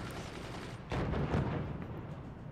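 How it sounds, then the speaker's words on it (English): Mortar fire from the physics-based strategy game Forts, heard as a short burst of booming, noisy blasts that rises abruptly midway and fades out over a couple of seconds, with no talking. "Crazy mortars are doing some damage here."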